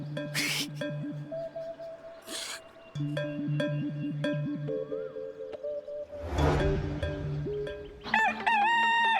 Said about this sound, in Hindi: कहीं असली मुर्गा कुकड़ू को कर रहा है अभी